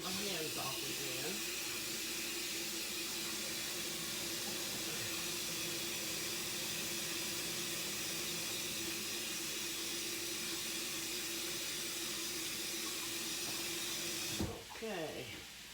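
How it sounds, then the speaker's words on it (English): Water runs steadily from a kitchen tap while hands are washed, a continuous close hiss that stops abruptly near the end. "I'm gonna wash my hands off again."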